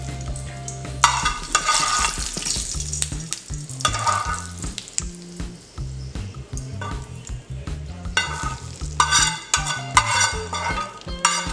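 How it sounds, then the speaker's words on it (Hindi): A tempering of green chili sizzles in hot oil for farali dhokla, crackling in bursts with spoon stirring and occasional clinks of the pan, close and steady. "और ये तड़का जो है हम अपने ढोकले पर डाल"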